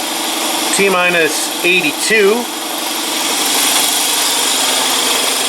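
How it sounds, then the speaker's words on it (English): An air compressor runs steadily as it charges up in a workshop during a 1968 Triumph TR250 restoration, a constant close engine-like drone beneath a brief spoken phrase. "Got the compressor charging up."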